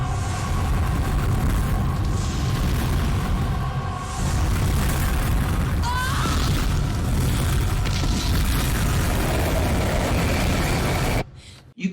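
Sustained roaring blast from the nuclear bomb scene in Terminator 2, a loud, dense rumble filling nearly twelve seconds with a brief dip midway before it cuts off abruptly.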